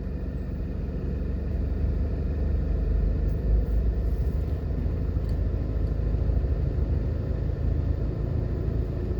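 A car rolls along Old Hope Road in Jamaica and turns into a hospital entrance, a steady low engine and tyre rumble with continuous road noise and no voices.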